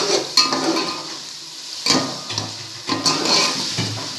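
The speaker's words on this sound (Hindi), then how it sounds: "अब हम इनको मज़ीद 1-2 मिनट के लिए पकाएंगे ताकि मसाले अच्छी तरीके से भुन जाए" Spices frying and being stirred in a pot for matar pulao, with a steady sizzle broken by several louder scraping stirs of a spoon against the pot, close and with no talking.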